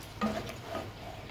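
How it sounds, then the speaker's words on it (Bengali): Ginger and garlic paste frying in a pan, a soft sizzle with a brief stirring scrape, fairly quiet and close. "আদা রসুন ভালোভাবে কষিয়ে নেব তাহলে আদা রসুনের ঘ্রানটা চলে যাবে"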